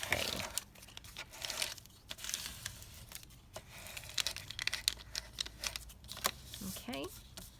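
Scissors cut paper for a handmade folio in a series of close, crisp snips and crinkles at an irregular pace, with a little rustling of paper between the cuts.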